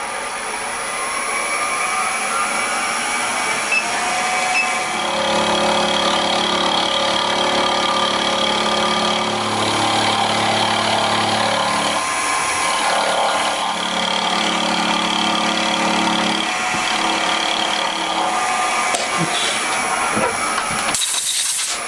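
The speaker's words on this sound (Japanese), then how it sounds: "もうつっかえ棒があるので、ここからまあとりあえず削っていくという感じですね" Power tool grinding and shaping a homemade engine cover for a four-cylinder conversion of a Honda Monkey engine, a steady, loud whine with shifting pitch running nearly continuously, briefly easing and resuming.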